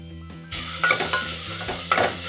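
Onions fry in a pan for potato chops, a steady close sizzle starting abruptly, with a few scraping stirs and clinks of a utensil against the pan.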